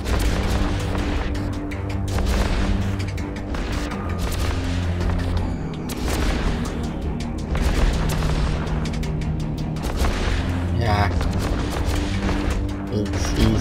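Spaceship weapons firing in EVE Online, a dense, continuous barrage of booming and crackling shots layered over a steady background hum, with no pauses.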